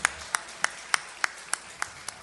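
Steady rhythmic clapping at a live show at the former Rádio Nacional in Praça Mauá, 2007, greeting a singer: about eight evenly spaced, crisp claps in unison, moderately loud and close.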